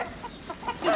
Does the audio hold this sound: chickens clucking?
yes